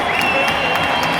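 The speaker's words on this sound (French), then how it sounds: "Ce sont les acclamations des fans de Al Hilal Omdurman, l'équipe du Soudan, qui s'est très bien comportée." Sudanese football fans of Al Hilal Omdurman cheer and applaud in a large stadium crowd, a dense, loud, continuous roar with clapping throughout.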